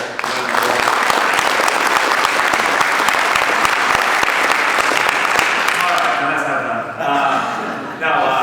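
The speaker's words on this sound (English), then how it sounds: "I think he deserves a quick round of applause." Audience at a 2021 HR and recruiting panel breaks into loud, sustained applause that fills the room for several seconds, then thins and tapers off near the end.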